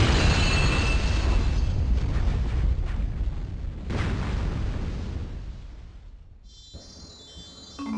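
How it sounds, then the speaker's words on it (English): A Bullet Bill blasts against a gate in the video game Super Mario Galaxy, producing a loud, rumbling explosion that swells, holds, and slowly fades into quieter game sounds. "we could kite a bullet bill just over the top of it and break the center open"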